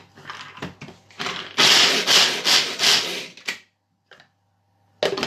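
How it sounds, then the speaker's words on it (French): Hazelnuts are chopped in a Tornado hand chopper, with several loud rattling, grinding bursts of nuts tumbling against the blades, then a pause and a short final burst. "Je vais les hacher avec le tornado et après je vais les faire torréfier à la poêle"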